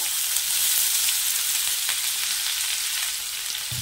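A large onion frying in hot oil, turning reddish for an egg masala, giving a steady, close sizzle that holds evenly with no talking.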